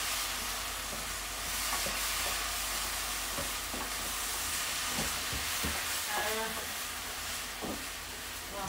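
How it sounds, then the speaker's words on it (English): Instant noodles sizzle steadily in a hot pan, a constant crackling hiss with occasional stirring scrapes and clicks, close by. "So hear that little sizzle there?"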